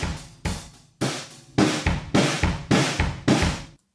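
Drum kit captured through a pair of Neumann V67 microphones in a corridor, sounding as a string of loud, roomy hits in an irregular groove, each strike ringing out with a lively ambient tail, with no talking.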